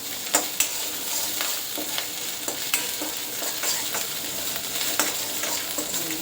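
Ginger-chili paste and ajwain sauté in hot oil, a soft continuous sizzle close by, with a few scattered spoon scrapes and taps against the pan, no talking.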